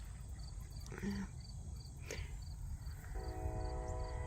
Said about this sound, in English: Yep, there's a train.